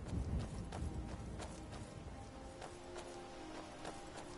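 Horse hooves clip-clopping at a steady walking pace in Skyrim, evenly spaced thuds over a low rumbling game ambience, moderately close.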